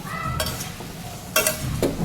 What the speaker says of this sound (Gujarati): મમરા એડ કરી દીધા અને મમરા વઘારી દીધા